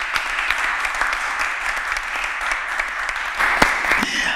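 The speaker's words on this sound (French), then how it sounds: "l'on soutient en applaudissements" Studio audience on a French TV quiz show applauding steadily, a dense, even wash of clapping that holds for several seconds with no voices over it.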